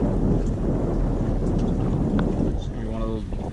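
Strong wind buffets a drifting fishing boat at sea, a loud, steady roar of rumbling gusts against the microphone, with a voice briefly heard toward the end.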